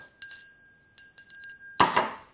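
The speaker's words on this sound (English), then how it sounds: "hit that bell notification" Bright metallic bell chime rings twice in quick succession, crisp and close with a shimmering ring, then a short soft rustling burst follows; no voices.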